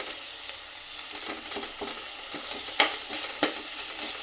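Green chillies dropped into a pan where onions are already golden, with fish pieces on the way, frying with a steady crackling sizzle and stirring scrapes, two sharper pops standing out near the end.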